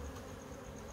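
Honey bees buzz in a steady, dense drone while being shaken into a hive during rehiving, a continuous close hum with no pauses and no voices.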